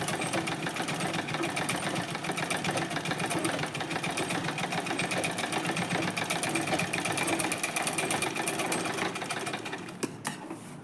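Sewing machine running steadily while stitching a leheriya wave pattern on cloth, a continuous close whirring hum with rapid needle clatter that holds at a constant speed and slows briefly near the end; no voices.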